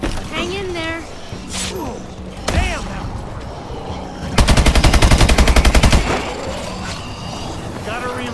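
Gunfire in the video game Call of Duty Advanced Warfare Zombies mode: scattered single shots, then a loud rapid machine-gun burst lasting about a second and a half, with game voices and effects around it.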